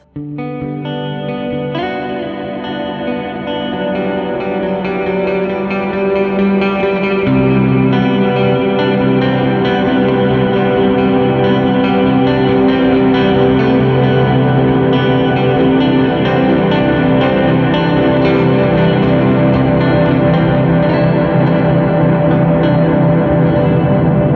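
Electric guitar run through a UAFX reverb pedal set to a long decay, sustained chords swelling into a dense, continuous wash that builds and holds loud and steady throughout, no voices.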